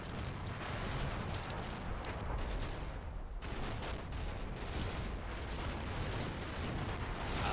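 Several weapons fire at once in the wargame Combat Mission, sounding as a steady wash of overlapping distant small-arms fire with a brief lull partway through.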